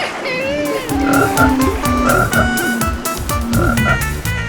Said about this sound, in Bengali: আরে ব্যাং!